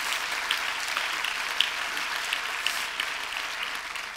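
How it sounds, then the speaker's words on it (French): A cinema audience at the FIFF 2023 film festival opening ceremony claps for a guest: a moderate, continuous round of applause with scattered sharper claps standing out, heard from within the room. "On peut applaudir Guadalupe."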